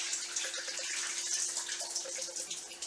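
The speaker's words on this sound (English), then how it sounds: "Dump this water out real quick." Water is poured off rough-chopped potatoes in a kitchen, making a steady, fairly quiet rushing splash that continues without a break.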